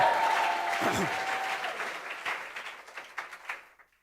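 A church congregation applauds during a sermon, a dense wash of clapping and cheering that slowly thins and fades into scattered claps with voices mixed in.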